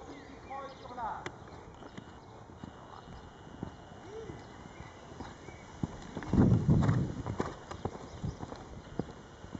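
Horse cantering in a show-jumping lesson, steady three-beat hoofbeats on the arena footing with a louder burst near the end, while an instructor talks over it.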